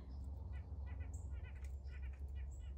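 Small tree-climbing birds that walk up the trunk give faint, scattered high calls in short bursts, over a steady low rumble of outdoor background noise.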